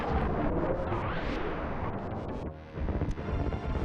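Bombs going off in Super Metroid, a dense run of booming game blasts with rumbling low end that swells, dips briefly, then surges again.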